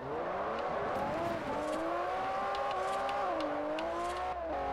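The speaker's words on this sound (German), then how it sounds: "Oh, das ist mal ein schöner Drift." A car drifting in Forza Horizon, its engine droning loudly and steadily with shifting pitch as it slides, tires hissing underneath, nearly continuous and close.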